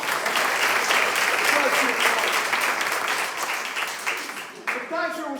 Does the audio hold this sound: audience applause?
yes